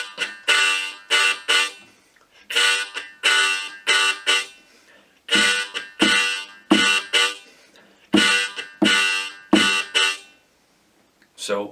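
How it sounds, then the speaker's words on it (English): Harmonica riff played in short tongued bursts, a repeating pattern of bright reedy chords with brief rests between phrases, close and clear with no talking. "So on the harmonica it sounds like this"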